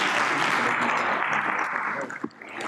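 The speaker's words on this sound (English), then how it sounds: "Another round of applause for them, please" A conference audience at the 2019 Ghana CEO Summit gives the panelists another round of applause, a thick, even wash of many hands clapping that thins and drops away near the end.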